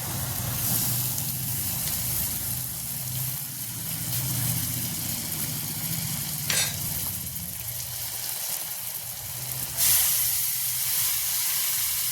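Masala fries in a pan with a continuous loud sizzle and hiss, flaring briefly a couple of times as water is poured in, with no talk over it.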